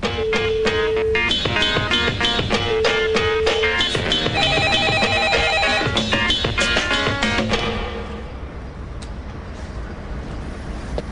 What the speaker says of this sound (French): Facha, il y a ton téléphone qui sonne.